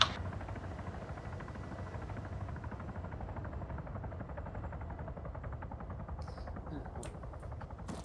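A helicopter in a video game hums as a steady low rotor drone through the whole stretch, with a few brief high clicks near the end.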